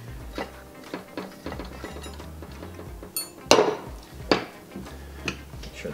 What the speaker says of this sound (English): Crank is still turning smoothly, and it is, and the transmission.